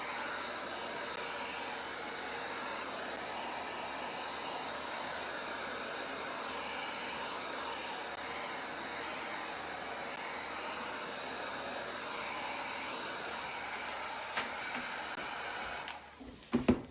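A heat gun blows steadily at close range while drying paint on a DIY wood sign, a constant airy roar lasting throughout with no talk, then a few brief clunks as it cuts off near the end.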